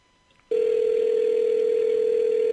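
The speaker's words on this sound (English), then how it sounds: "I might speed up here a little bit because it's just ringing." A steady electronic ring tone sounds on an outgoing phone call, starting abruptly after a near-silent moment and holding one continuous unbroken tone, fairly loud and alone.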